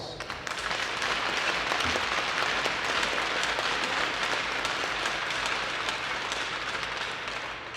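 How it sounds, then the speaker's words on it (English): A hockey arena crowd at a girls' high school game gives steady, loud applause honoring veterans and military personnel, a dense continuous roar of clapping that holds throughout. "I ask that you give them a kind round of applause"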